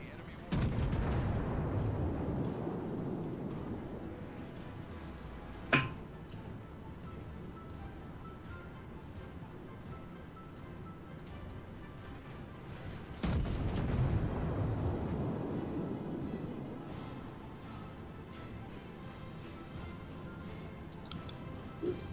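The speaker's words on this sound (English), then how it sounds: "Concentrate fire on the enemy warship." Heavy naval gunfire from warships in a video game, a broad rumbling barrage with two sharp booming salvos standing out over a continuous low roar of battle.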